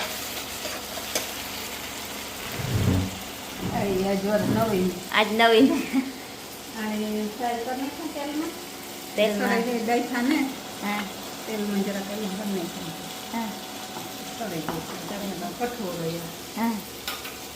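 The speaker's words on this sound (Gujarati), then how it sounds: "ઘૂઘરીનો અને ટમેટાનો વઘાર મારી દીધો" A tempering of sprouted beans and tomato sizzling in hot oil in a village kitchen, a moderate, steady sizzle with stirring running beneath a person talking throughout.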